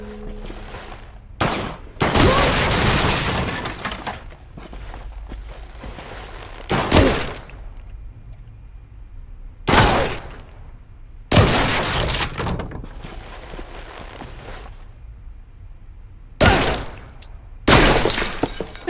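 Bursts of gunfire rip out in separate volleys, some mixed with shattering glass, loud and close against near silence between the sprays of bullets.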